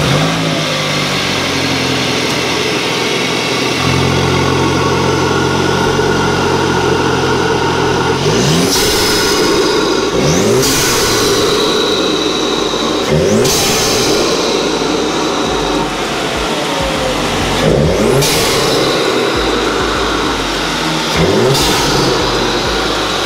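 A Volkswagen MK8 GTI fitted with an APR air intake starts up and idles loudly, then revs several times, each rev rising and falling over a steady engine drone.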